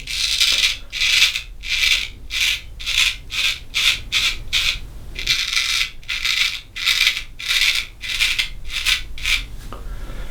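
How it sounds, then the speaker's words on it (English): Close, crisp scraping of a straight razor through heavy beard stubble, many short rhythmic strokes in quick bursts with a brief pause midway, alone without speech. "You can hear the feedback from the razor as well."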